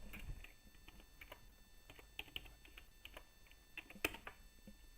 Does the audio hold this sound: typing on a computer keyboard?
yes